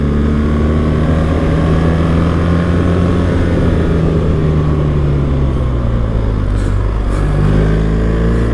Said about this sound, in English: I'm revving my engine too high